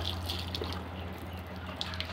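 Water runs steadily from a household tap, a continuous close hiss with a low hum beneath it and no talk over it.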